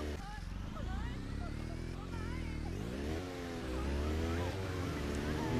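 A motorcycle ridden in the video game Just Cause 2, its engine droning and revving with shifting pitch, heard under someone speaking German over the game audio.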